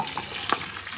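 Brussels sprouts frying in hot oil, a brief dense crackling sizzle with one sharper pop, close and fairly loud, with no talk.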